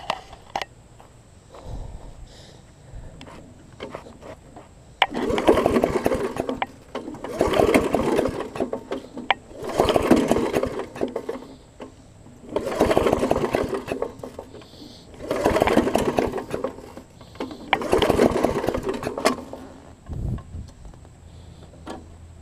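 A small lawn mower engine runs in repeated surging bursts, about six rising-and-falling pulses a couple of seconds apart, at moderate loudness with a faint steady hum underneath.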